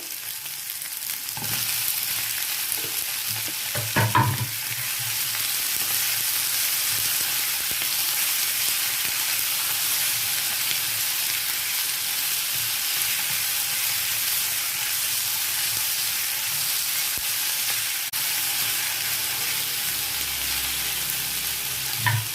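Paneer sizzles and fries in a pan with cut tomato, onion and capsicum, a steady close hiss lasting throughout with a brief stir and clatter early on.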